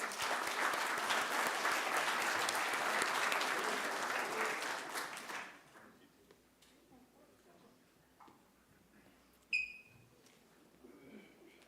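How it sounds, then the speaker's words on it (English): Applause for a panel at the First Nations National Guardians Gathering: many hands clap steadily for about five seconds, then fade to a quiet room with scattered small noises and a brief sharp whistle-like sound. "Let's have another round of applause"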